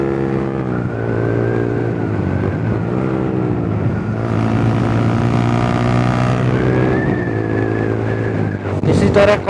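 A motorcycle engine during rev-matching with clutch, gear and throttle, revs swelling and dropping in several blips as gears change, close and fairly loud, ending in a sharp throttle burst.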